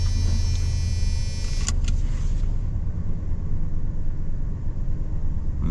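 Van with a busted motor idling in cold desert air, a loud steady low rumble with brief clicks and rattles early on, engine running continuously throughout.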